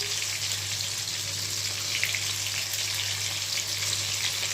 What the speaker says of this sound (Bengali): লো ফ্লেমে আমি ভেজে নেব, না হলে ভেতরটা কাঁচা থাকবে